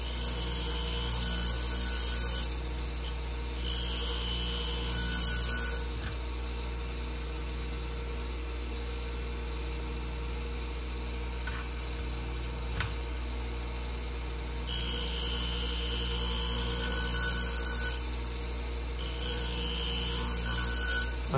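Bandage scissors being sharpened on a sharpening wheel with the blade only lightly touching, giving a steady low motor hum with bursts of bright hissing grinding that come and go.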